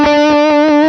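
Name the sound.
guitar amp with Morgan Amps Suite pedal on overdrive 2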